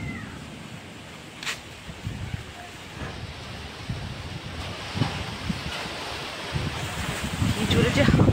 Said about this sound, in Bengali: কি জোরে যে হাওয়া দিচ্ছে,